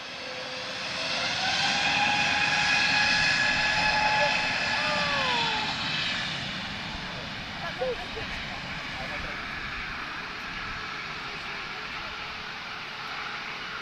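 An airliner roars past at Lisbon Airport, its engine noise swelling loud and broad for several seconds, then easing into a lingering rumble; a brief click interrupts the fading wash.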